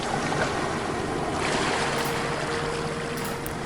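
Surf rolls and hisses continuously along an ocean shore, a dense, even roar of breaking water with a light wind-like texture, heard alone at a steady moderate level.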